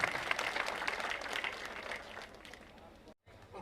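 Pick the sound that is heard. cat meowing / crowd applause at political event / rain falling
crowd applause at political event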